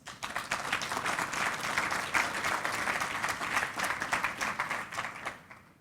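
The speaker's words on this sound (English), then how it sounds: "You deserve a round of applause." Sustained audience applause at a technology conference, a dense steady wash of many hands clapping for several seconds before tapering off at the end.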